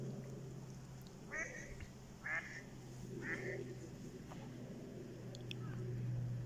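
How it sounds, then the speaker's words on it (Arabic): Several hybrid wild ducks on a lake quack in short bursts over a low steady hum, a few calls spaced apart at moderate distance. "يعني صار بحيرة مليانة بط"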